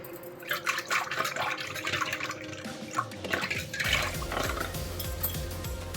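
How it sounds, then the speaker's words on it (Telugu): Buttermilk churned by hand in a pot for majjiga charu, giving wet sloshing, dripping liquid sounds with scattered clinks of utensil against the pot, continuous and close, with no talking. "ఇది తీసి పక్కన పెట్టేసుకొని ఇప్పుడు బాగా చిలుక్కుందాం"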